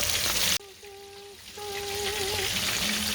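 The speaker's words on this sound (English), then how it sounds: "this is how my fish are frying" Steady oil sizzling and crackling of fish frying with garlic fills the clip, with a thin tonal whine drifting in and out over the frying hiss.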